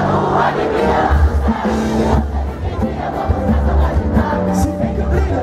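A large concert crowd at a live samba/pagode show sings along loudly and continuously, a dense wall of massed voices with music underneath, filling the whole stretch without a break.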